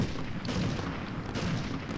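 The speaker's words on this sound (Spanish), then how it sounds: "vamos a usar el rifle francotirador" Gunfire from a sniper rifle in the video game Medal of Honor Underground, a dense, loud, continuous roar of shots and booms with no voices.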